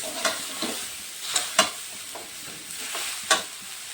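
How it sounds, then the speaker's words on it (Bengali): Bottle gourd with spices stirred in a hot pan for a Bengali lau ghonto, a close low sizzle broken by several sharp scraping stirs of a spatula. "এখন মশলাগুলো শুদ্ধ লাউটাকে ভালোভাবে মিশিয়ে দেব।"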